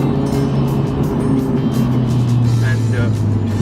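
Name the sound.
Honda Civic Type R engine while driving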